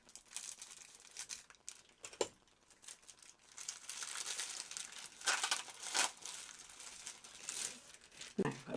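Plastic crinkles and rustles in bursts, with sharp snipping and tearing sounds close by, quiet and intermittent.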